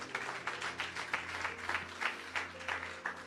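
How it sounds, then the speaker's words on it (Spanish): A Spanish-speaking church congregation claps together in a steady, fairly rhythmic beat, many hands sounding moderately close for a few seconds over a faint, sustained low tone. "dale un aplauso al Señor"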